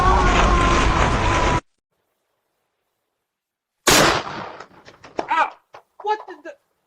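A single loud, close shotgun blast cracks out after a stretch of silence and decays quickly, followed by someone talking; a short burst of harsh noise comes before the shot.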